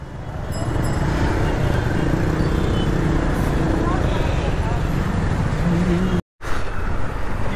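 Road traffic noise on a night motorbike ride to Tiruvannamalai, a steady broad roar of wind, engine and passing vehicles throughout, with a brief dropout near the end.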